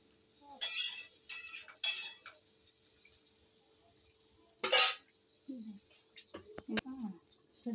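A basin is scrubbed in a home kitchen during chicken cooking, with short rough scrubbing bursts, a louder scrub midway, and scattered sharp clinks and knocks of dishes against it between quiet gaps.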